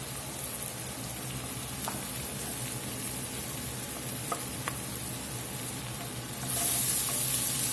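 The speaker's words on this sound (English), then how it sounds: "We'll just let this flour cook about a minute." Butter and flour cooking in the pot for a Mississippi pot roast give a steady close sizzle with faint stirring, swelling to a louder hiss near the end.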